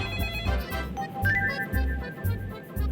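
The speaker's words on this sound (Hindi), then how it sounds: "ये प्रिया बार बार फोन कर रही है" A phone ringtone plays a repeating melodic pattern over a steady low pulsing beat, fairly close and moderately loud, with no talking.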